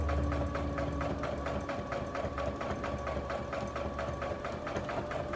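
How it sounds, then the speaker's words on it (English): A sewing machine stitches through a quilt sandwich beside blue tape on a Dresden Plate wall hanging, a loud, even, rapid mechanical chatter with regular needle ticks and a low motor hum throughout. "I'm being very careful not to stitch on the blue tape, but right next to it"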